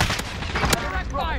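Bursts of gunfire in a battle royale game crackle in rapid, dense volleys, with a few sharper reports standing out against a steady background of combat noise across the short moment.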